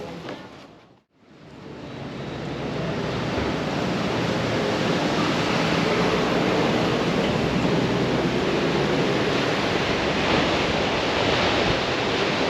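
Sea waves roll onto the Peruvian coast in a loud, broad wash of surf that swells after a brief dip and then holds steady, with some wind buffeting and no voices.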